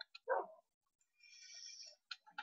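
A Minecraft dog barks in a cave during a hardcore survival game: one quiet, short bark early on, followed by a sustained faint game tone and soft clicks.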